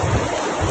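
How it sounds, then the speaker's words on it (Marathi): Sea waves crash on the Konkan shore in a loud, rushing wash of surf mixed with wind buffeting the microphone, heard alone over a very short stretch. "आवाज येते का तुम्हाला? समुद्राच्या लाटा बघा"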